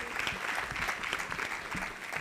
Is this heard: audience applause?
yes